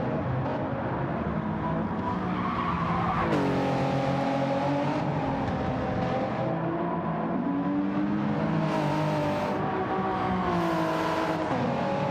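A race car in a racing video game runs loud and constant, its engine pitch rising and falling as it skids and spins out on grass during an endurance race.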